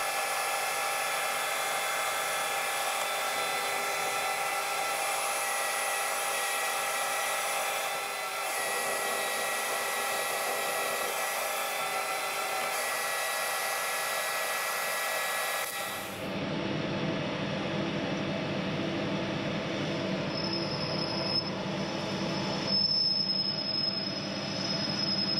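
Metal milling machine with a face mill on an MT3 arbor cutting a shoulder, a steady loud whine and hum that shifts midway into a harsher, deeper cutting tone with occasional high squeals.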